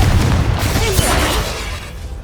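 Confringo blasting spell explosion in Hogwarts Legacy, a loud, close burst of booming, crackling noise with a deep rumble that tails off over about two seconds.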